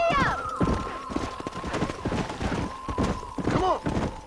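Horse hooves gallop in a rapid clip-clop rhythm in the Red Dead Redemption video game, loud and continuous, mixed with snorts, game voices and music.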